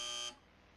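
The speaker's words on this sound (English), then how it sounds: "When you hear the buzzer, move to the left." In the game Evoland 2, a buzzer gives a short, bright electronic tone that lasts about a third of a second and then cuts off abruptly. Only faint background noise follows.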